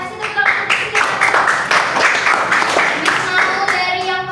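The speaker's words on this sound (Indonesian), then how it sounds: "Kasih tepuk tangan untuk Josia." Classroom of children clapping together, a close, lively round of rapid hand claps with some children's voices mixed in.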